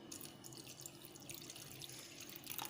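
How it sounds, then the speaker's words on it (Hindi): Water pours steadily from a tap into cooled tempering for rava dhokla, a soft continuous splashing with faint drips, quiet and close, no talking. "अब हम इसमें थोड़ा सा पानी डालेंगे,"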